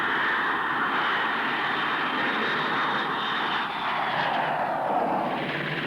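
Vulcan and Victor II jet bombers, powered by Bristol Siddeley Olympus and Rolls-Royce Conway engines, fly past at a 1960s Farnborough airshow with a loud, continuous, broadband jet roar that holds steady and then shifts slightly as they pass.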